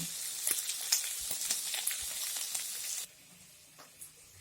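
Green peas frying in a pan for a ghugni recipe, crackling and sizzling up close for about three seconds before dropping to a quieter background hiss.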